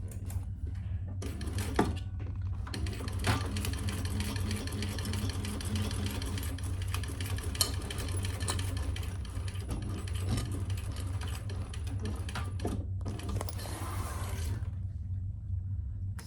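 A sewing machine runs steadily, stitching a leather crossbody bag, its motor humming in long continuous bursts broken by short pauses, close and fairly loud, with no voices.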